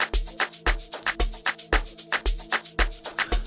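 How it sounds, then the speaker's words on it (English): Sonor strings in Caustic 3 are played with a pulsing, rhythmic beat over sustained tonal layers, steady and full throughout with no talking. "I have my sonor strings which sound like this"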